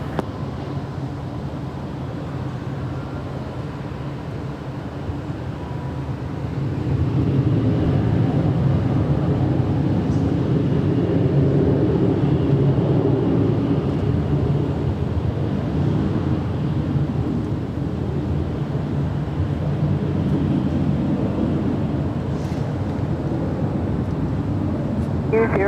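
Jet airliner departing runway 24 Left at LAX, heard from a high hotel rooftop: a broad, steady engine roar rises after several seconds and holds loud and sustained, with wind noise and distant radio-style voices underneath.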